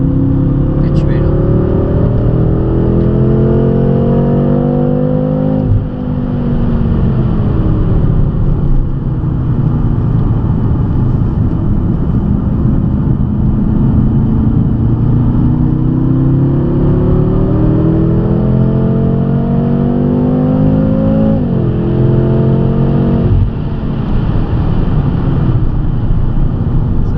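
A BMW M5 30 Jahre with 600 hp and an Akrapovic exhaust loud on a race circuit, engine note climbing steadily through the gears in long rising sweeps, with two clear shifts, under a constant roar of wind and road noise.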